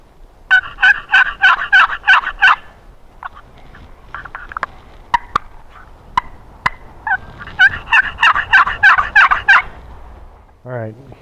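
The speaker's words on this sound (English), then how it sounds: "We had luck with the box call this morning." A wooden turkey box call played in the field during a Deadwood, South Dakota turkey hunt, rasping out two bursts of rapid, evenly spaced yelps with scattered clucks and soft scrapes between them, loud and close.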